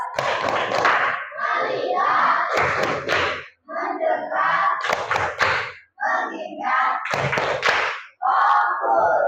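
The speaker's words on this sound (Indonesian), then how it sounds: "Ayo, tepuk fokus." A school class performs a rhythmic focus clap, bursts of sharp unison claps in patterned groups alternating with the class chanting together, loud and close in a classroom.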